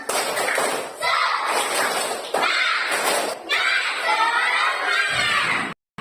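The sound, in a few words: schoolchildren doing a rhythmic clapping chant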